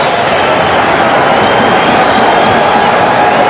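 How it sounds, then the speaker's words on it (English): A packed Boston Garden crowd cheers through the closing minute of a 1989 Celtics–Mavericks basketball game, a loud sustained arena roar with scattered clapping and shouts blended into constant noise. "Much of the crowd on their feet here at the Garden with 1 minute remaining in the ballgame."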